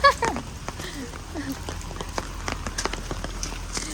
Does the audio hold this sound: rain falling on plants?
yes